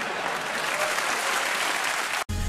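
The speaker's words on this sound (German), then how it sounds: "Ja, klatscht ruhig mal." Steady, dense clapping fills the space from start to finish, broken only by a brief cut near the end, with a faint hint of a crowd behind it.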